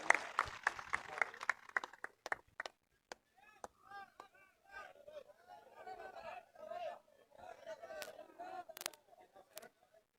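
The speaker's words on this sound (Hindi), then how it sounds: "आप सब जोरदार तालियों से उनका स्वागत करें।" At a Congress party rally in Palwal, a crowd gives scattered claps and short bursts of applause, fairly faint and uneven, with chatter and murmuring voices in between.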